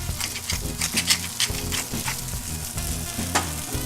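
Spaetzle sizzle and crackle in a hot pan as they brown, a loud, close, continuous frying hiss with irregular pops and the scrape of stirring.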